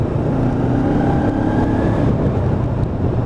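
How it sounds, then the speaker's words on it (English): Lexmoto LXR 380 motorcycle engine droning steadily while riding along a dual carriageway, with a constant low rumble and wind over the whole stretch. "Have a listen to that engine tone."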